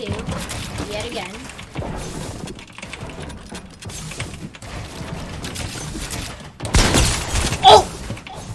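Rapid gunfire in a video game, rattling bursts running under excited conversation between players, with a louder burst near the end.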